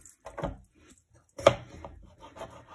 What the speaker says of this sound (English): Right, so I'm now just going to chop up this potato.